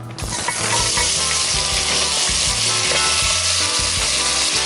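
Green beans frying in coconut oil in a hot pan, a loud continuous sizzle with a rhythmic low scraping of stirring repeating underneath, close and without talk.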